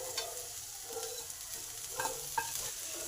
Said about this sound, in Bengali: ওটসটাকে সমস্ত সবজির মধ্যে ভালো করে ভেজে নেব